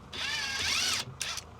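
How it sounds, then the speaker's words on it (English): A small 3/8 ratchet clicks rapidly as it turns a brake caliper bolt on a 2021 Ford Transit Custom, one sustained run of close, crisp ratcheting followed by a shorter second burst. "What's that, one of the little 3/8 ratchet ones?"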